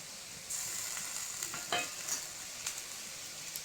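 Ginger and cumin paste fry in a pan for a thin magur fish curry with drumsticks, a steady soft sizzle broken by a few stirring scrapes, fairly quiet and close.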